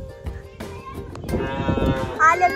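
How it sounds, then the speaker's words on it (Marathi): Cattle moo close by on a Maharashtrian village farm, drawn-out lowing calls rising over rustling background noise, with a short higher call near the end. "पप्पाही येते ना आता। आले गुरं"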